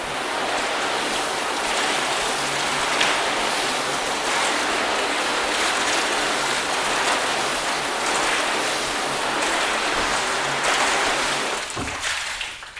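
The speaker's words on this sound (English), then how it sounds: "let's just rinse these individually so we can just sort of check them out close up" Steady water spray rinsing a freshly coated car panel, a continuous hissing wash that runs unbroken for several seconds before tapering off at the end, close and without talk.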